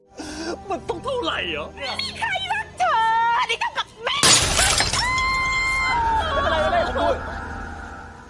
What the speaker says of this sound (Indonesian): serpihan kaca tiba-tiba masuk mengenai mata kanan Kunam